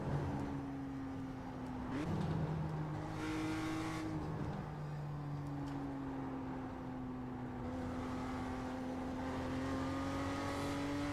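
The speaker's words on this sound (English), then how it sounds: "Okay, now one more flying lap." A BMW M2 race car in iRacing screams through a flying lap, its engine note climbing and dropping through gear changes, loud and close with a steady drone.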